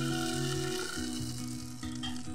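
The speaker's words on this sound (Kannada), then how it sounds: "ಈಗ ನಾವು ರೆಡಿ ಮಾಡಿದ್ದು ಹಿಟ್ಟನ್ನು ಕಾವಲಿಗೆ ಹೊಯ್ಯಬೇಕು 1 ಸೌಟು" Radish dosa batter meets a hot griddle, giving a steady close sizzle with faint stirring, no voices.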